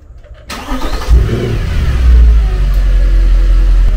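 A Mercedes C63 AMG engine, freshly topped up with 5W40 oil, cranks and catches, then settles into a steady, loud idle with a low rumble and no rattling or ticking; no voices.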